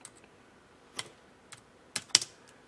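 Keystrokes on a computer keyboard while filling in a PowerPoint exam exercise, a few sparse, soft clicks scattered over a quiet room, with a sharper pair of taps near the end.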